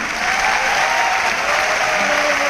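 Loud, steady applause from a seminar audience fills the room throughout, dense clapping with no pauses and a faint voice briefly underneath.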